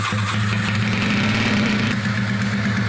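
A rebuilt Honda CB250 Super Dream motorcycle engine runs close by, a steady low rumbling idle with an even throb.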